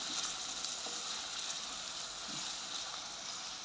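Onions frying in a pan for an egg masala curry give a steady, quiet sizzling hiss with a few soft pops and no talk.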